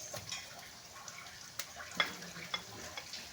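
Garlic and onion sautéing in a pan, a faint continuous sizzle with a few light clicks and scrapes.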